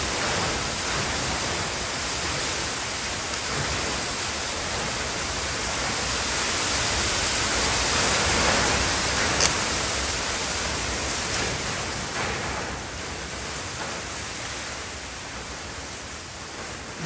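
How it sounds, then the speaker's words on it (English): Heavy rain falling outside during bad weather, heard from inside a garage as a dense, continuous broadband hiss with no voices, steady throughout and swelling slightly in the middle. "I don't know whether you can hear the weather outside, but it's disgusting."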